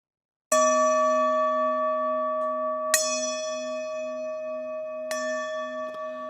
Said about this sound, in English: When you hear our chimes, open your eyes.